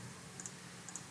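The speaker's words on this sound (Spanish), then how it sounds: "y voy a darle clic derecho," Two quick double clicks from a computer mouse right-click during Java programming work, spaced about half a second apart, crisp and close against a quiet room hum.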